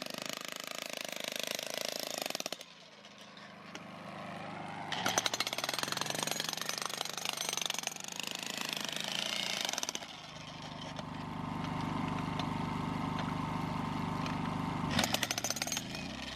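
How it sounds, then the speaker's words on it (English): Loud, continuous jackhammer pounding into rock in sustained bursts, with brief pauses between stretches of rapid hammering, close by; the tip gets stuck. "Jackhammer tip got stuck"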